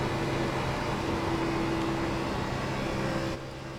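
An Xfinity race car laps Las Vegas in the iRacing simulator, a steady, moderately loud engine drone that holds a constant tone before dropping slightly near the end.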